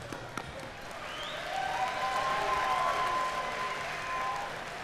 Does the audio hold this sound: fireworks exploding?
no